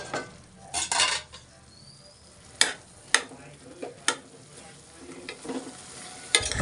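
Brinjal for an egg curry fries in a pan with a soft sizzle. Sharp clinks and scrapes of a spoon against metal come at irregular intervals as the pieces are stirred.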